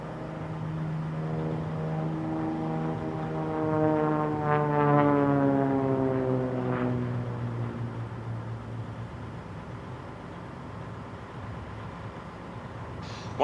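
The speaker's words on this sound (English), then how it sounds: "this is not your ordinary Bonanza. It's a very rare 1986 F-33C that is built and certified for aerobatics" Propeller engine of a rare 1986 Beechcraft Bonanza F-33C aerobatic airplane performing at an air race and airshow, a steady droning roar with a falling pitch as it passes, loud then fading into distant rumble.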